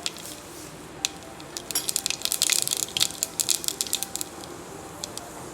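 Mustard seeds spluttering in hot oil in a pressure cooker while making karamani kuzhambu, a rapid irregular crackle of sharp pops that thickens into a dense burst midway before thinning out again, close and fairly quiet with no voices.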